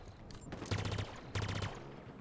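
Burst rifle fire in the Halo Infinite multiplayer shooter: two short, loud bursts of rapid shots, each around a third of a second long, separated by a brief gap and set against steady game background noise.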